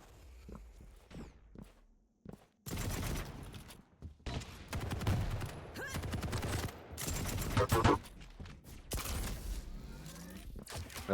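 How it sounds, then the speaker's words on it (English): Tri-bolt weapon fire in a Quake Champions duel, with bursts of sharp, loud shots and explosive impacts clustered in several volleys, mixed with quick footsteps and the clatter of movement between them. "That was a really nice tri-bolt."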